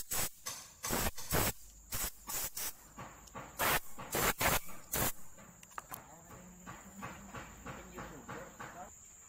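Bursts of spray cleaning the control valve filter of a Komatsu PC200-7 excavator, rapid irregular hissing blasts that come in quick pulses, then softer, sparser hisses.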